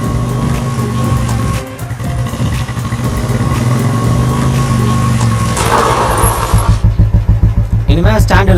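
A motorcycle being ridden, its engine droning steadily up close with a revving, pulsing pattern near the end, while voices talk over it in a Tamil short film scene.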